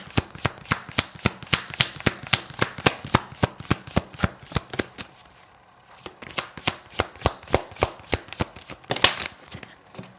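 A deck of tarot cards is shuffled up close in quick, rhythmic riffling bursts that pause briefly midway and then resume, with no voices.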